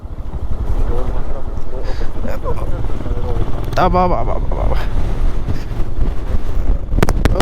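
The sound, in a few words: strong wind blast on Mullayanagiri peak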